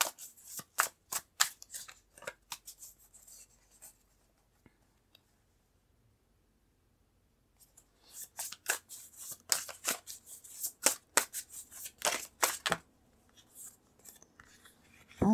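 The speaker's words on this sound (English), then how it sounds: "I'm going to pull out some more cards" Tarot cards being shuffled and pulled from the deck, a string of soft crisp flicks and taps, a quiet gap, then a denser run of card snaps and rustles, all close and gentle.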